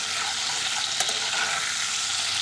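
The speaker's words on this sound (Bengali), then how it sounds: "শুধু লবণ দিয়ে পটলগুলোকে ভালোভাবে ভেজে নেব" Pieces of pointed gourd (potol) fry in hot oil with salt and are stirred in the pan. A steady, close sizzle continues throughout, with a single utensil clink near the middle.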